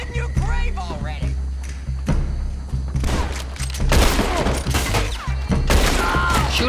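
Gunfire in a Red Dead Redemption 2 mission: scattered loud shots and booming reports in a busy shootout, mixed with voices and background game sound, growing denser toward the end.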